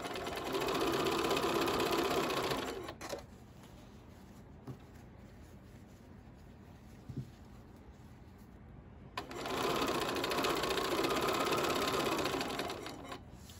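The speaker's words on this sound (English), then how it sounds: "we're just going to keep sewing here" Sewing machine stitches quilt top pieces in two loud steady runs, a few seconds each, with a quieter pause between them that holds only soft handling clicks.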